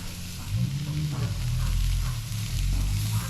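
Australian salmon fillets, freshly caught in southern Tasmania, laid into a very hot pan, giving a loud, steady close-up sizzle and crackle of frying fish throughout.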